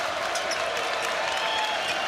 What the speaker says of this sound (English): this is the first time in the game that the crowd's had a chance to get into it